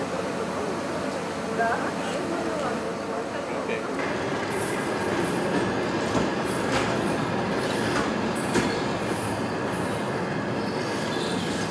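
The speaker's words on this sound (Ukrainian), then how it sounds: "На першу платформу прибуває пасажирський потяг з полученням Київ-Ужгород." Kyiv–Uzhhorod passenger train pulling in at a platform, a steady loud rumble of rolling wagons with wheel squeals and clatter throughout, with faint voices in the background.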